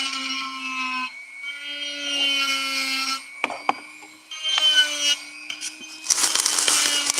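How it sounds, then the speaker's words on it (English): A Dremel rotary tool with a cutoff blade cuts through bone to make guitar picks, giving a close, whining grind that stops and starts in several bursts, with sharper, rougher cutting noise toward the end. "I started cutting it out. Use my Dremel cutoff blade."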